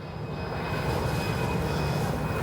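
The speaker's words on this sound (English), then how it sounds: "United Airlines Flight 661 and Airbus A320-200 departing to Salt Lake City" A United Airlines Airbus A320-200 jet departs O'Hare Airport for Salt Lake City, its engines a steady, broad roar that swells slightly and holds, heard from a distance with no one speaking.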